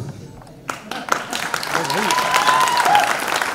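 A book launch audience breaks into applause that builds to steady, dense clapping, with a voice talking over it.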